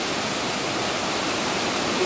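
Raging river rapids at a Hawaiian spot roar as a dense, steady wash of rushing water that fills the scene, loud and unbroken throughout.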